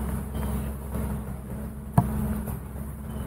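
Bees from beehives buzz steadily and close by, a continuous droning hum with one brief sharp knock partway through.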